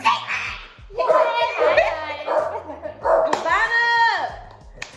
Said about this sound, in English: So y'all hear the dogs barking.